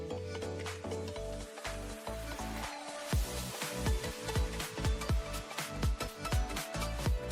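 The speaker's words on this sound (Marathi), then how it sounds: "चण्याला आता आपण फोडणी देऊया इकडे तडका तयार झाला आहे" Tadka sizzling in hot oil for a chickpea curry: a bright, hissing fry heard close up, mixed with wooden stirring and scraping, over a rhythmic musical backing.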